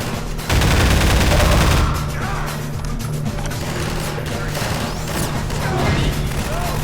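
Video game gunfire crackles in a dense, loud burst at first, then keeps rattling and thumping more softly in the background while a voice talks over it.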